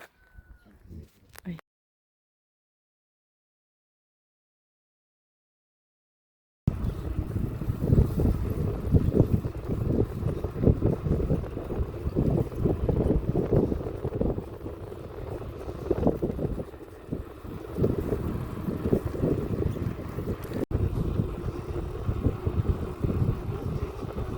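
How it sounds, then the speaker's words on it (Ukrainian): After a short silence, steady rumbling wind buffets the microphone, a low continuous roar that rises and falls, with occasional voices underneath, from a headwind while travelling out of Berezne, Ukraine. "Сьогодні трошки вітер у нам зустрічний"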